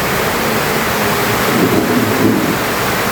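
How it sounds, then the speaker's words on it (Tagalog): Heavy rain pours down steadily as a dense, continuous hiss with a low rumble underneath, loud and unbroken for the whole stretch, with no talking. "Lakas na ng ulan."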